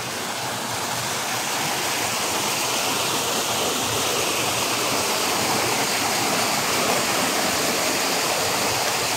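A weakened stream flowing among plants, its water rushing in a dense, unbroken wash that stays loud and even from start to finish, with no one speaking.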